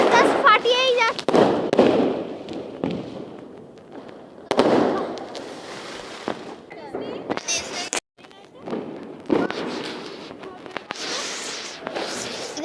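Diwali firecrackers burst in quick succession outdoors, with sharp pops and crackles arriving in irregular clusters while people talk close by.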